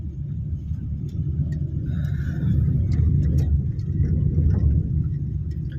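A manual car drives on after being shifted into third gear, producing a continuous low engine rumble and road noise from inside the cabin, with the engine note rising slightly as it moves.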